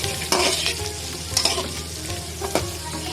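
Bitter gourd frying in a pan as cumin, salt, chilli and green chilli are stirred in: a steady close sizzle broken by three sharp spoon scrapes against the pan.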